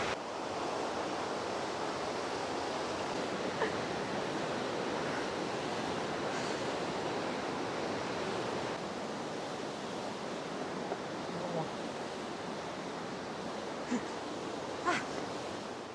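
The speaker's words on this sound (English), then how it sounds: "these mics do not like ambient waterfall noises" A waterfall on a Norwegian hiking trail, heard as a steady, broad rushing roar of falling water that fills the scene evenly from start to finish, with a few faint knocks over it.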